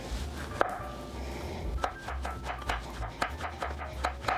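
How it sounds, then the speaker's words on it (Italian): Kitchen knife slicing zucchini into thin rounds on a cutting board, a series of close, crisp taps at an uneven, steady pace, each cut sharp against a quiet kitchen background. "taglio qualche altra fettina di zucchina"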